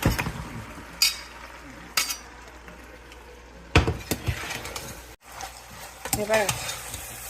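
Pasta is stirred and fried in an Indian-style masala in a pan. Spoon scrapes and clinks against the pan land roughly every second over a low, steady sizzle, with no voices.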